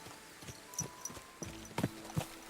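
Horse hooves walking in the video game Kingdom Come: Deliverance II, a faint, irregular clip-clop of a few hoof steps, quiet and close.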